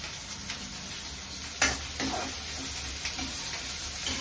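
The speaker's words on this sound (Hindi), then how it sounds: "मैं अनियन डाल रही हूँ, ये कढ़ाई पनीर बना रही हूँ तो इसलिए थोड़ा सा चॉप अनियन डालेंगे" Finely chopped onions frying in a kadai for kadai paneer, with a steady sizzle throughout and a few scraping stirs of a spoon, close and moderately loud.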